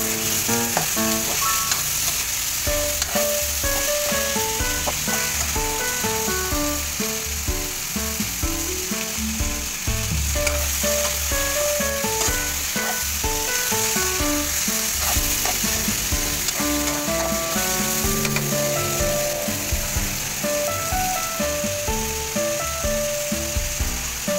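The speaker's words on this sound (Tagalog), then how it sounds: "kaya iniligay na natin yung ating kalabasa. Gigisahin na natin siya" Squash (kalabasa) sautéing with tomatoes in a pan, a continuous, loud sizzle and crackle of frying with occasional scraping of a utensil, running steadily throughout.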